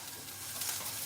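White parts of spring onion fry in a pan with a faint, steady sizzle and light crackle, soft and continuous with no talking.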